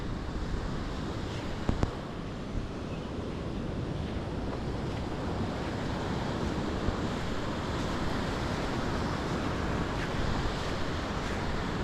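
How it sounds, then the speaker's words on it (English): Strong northeasterly wind and crashing surf at Isipingo beach, a dense continuous roar with heavy wind buffeting on the microphone throughout, loud and unbroken, no voices. "Quite a strong northeasterly. You can actually feel it."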